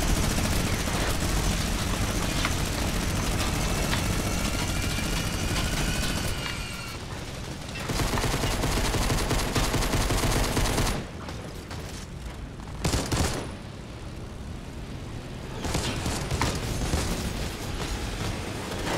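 Chaotic gunfire and explosions in the video game Fortnite during a Season 8 Air Royale match, loud dense bursts of shots and booms with a few brief lulls, running for nearly twenty seconds.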